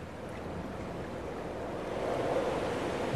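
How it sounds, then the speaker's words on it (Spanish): Water runs and trickles through a small cave in the game Dear Esther, a steady close wash of flowing water that swells slightly louder toward the end, with no talking. "fijaos en el ruido del agua. Es que es perfectamente creíble."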